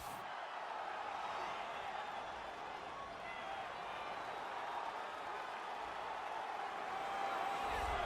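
A faint, steady roar of an arena crowd in UFC 3 as a heavyweight fighter walks out to the octagon, a continuous distant wash of cheering with no distinct peaks.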